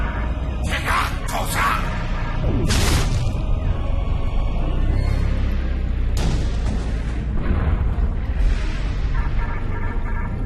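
Starship weapons firing in the space game Star Trek Online: loud booming blasts and sharp bursts over a constant low rumble, with several distinct shots spread across the stretch.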